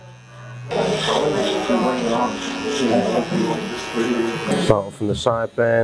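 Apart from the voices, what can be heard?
electric hair clippers buzzing during a haircut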